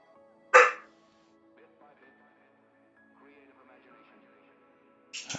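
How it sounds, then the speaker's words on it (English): A dog lets out one sharp, close bark near the start, followed by a few seconds of quiet room noise and faint background sounds before a brief noisy burst at the end. "Dog's freaking out."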